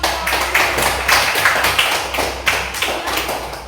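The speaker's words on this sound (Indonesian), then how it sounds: "Silakan tepuk tangan untuk kelompok." A class claps for a group of students in a classroom, a brief round of taps and claps from a small number of hands, fairly close and steady for a few seconds, with no talking.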